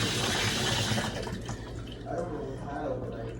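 Water pours steadily into a pot of rice with a broad hiss that eases after about a second, while a voice speaks underneath.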